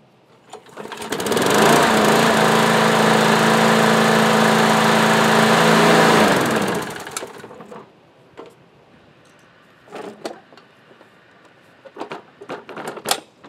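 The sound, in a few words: Briggs engine running on MTD lawn tractor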